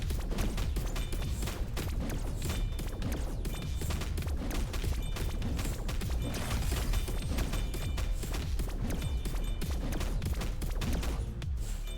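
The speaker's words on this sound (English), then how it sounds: "Yeah, this explosion is super nice." Rapid, dense bursts of explosions and gunfire-like blasts from the roguelite game Star Fire, loud and continuous throughout with barely a pause, no voices over them.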